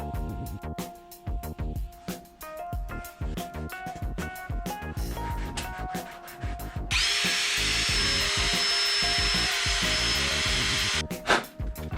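A power drill runs on and off while applying metal polish to sun-damaged interior trim of a 280ZX, with short bursts and rattling handling noises before a steady, loud, continuous whir.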